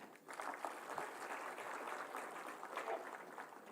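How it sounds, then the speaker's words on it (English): A crowd in an auditorium at an institute's foundation day celebration breaks into sustained applause, many hands clapping densely and fairly loudly for several seconds, swelling after a brief quiet start. "I think we should have a round of applause"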